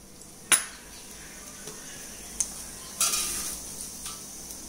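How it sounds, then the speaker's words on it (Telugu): A spoonful of tempering seeds goes into hot oil for a South Indian drumstick curry, with a sharp clink of the spoon and then a soft sizzle and a few scattered pan taps. "ఇప్పుడు ఒక స్పూను తిరగమాత గింజలు వేసుకుందాము"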